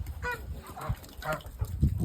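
Several geese honk close by in a quick irregular series of nasal calls, with low rustling in between.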